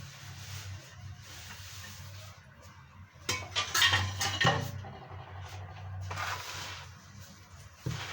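Dry flour and other dry ingredients being mixed with a utensil in a bowl for a Moroccan dish, giving a soft steady scraping hum broken by a louder burst of clinking and knocking in the middle, close and without talk.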